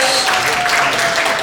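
Audience applause at a TV show launch press meet, a steady dense wash of clapping from a crowd filling the whole moment, fairly loud and close.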